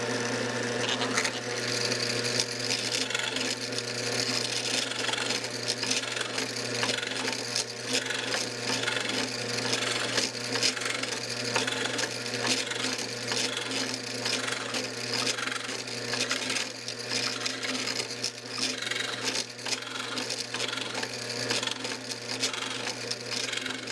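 Drilled wooden backs are carved down with a steady, continuous scraping and rasping of tool against wood, close and dense throughout, with a constant low machine hum beneath and no speech.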